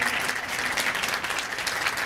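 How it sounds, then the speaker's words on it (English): Loud, steady audience applause greets a panelist at a finance and women entrepreneurs forum, a thick continuous patter of clapping from a sizable crowd without talk. "You can give her a round of applause"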